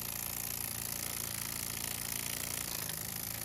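Tiny oscillating steam engine built from a mayonnaise jar, running on five pounds of compressed air, gives a fast, even mechanical chuffing and rattling, steady and fairly quiet throughout.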